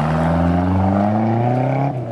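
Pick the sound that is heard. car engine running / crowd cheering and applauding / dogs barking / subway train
car engine running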